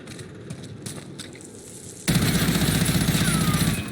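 An FFAR 1 rifle fitted with a Raider stock fires in Warzone, a loud, rapid automatic burst close by that starts abruptly midway and rattles on continuously after quieter ambient game noise.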